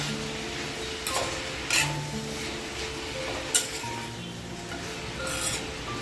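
A spoon stirs pumpkin sabzi with tomato in a pan, steady sizzle of sautéing under a few light metallic clinks and scrapes, close up with no voices.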